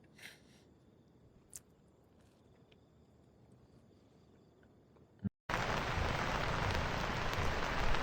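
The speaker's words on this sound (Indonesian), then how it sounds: "tiba-tiba langit menggelap, hujan pun merintik. Lalu tak lama berangsur deras" Light drizzle ticks softly at first amid faint insect chirps, then a sudden jump to loud, heavy rain pouring in a dense, continuous roar close by.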